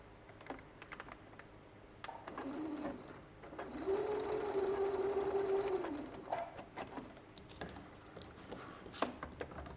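A sewing machine stitching fabric whirs in a steady run of about three seconds after a short start, set among light tapping and handling clicks in a quiet room.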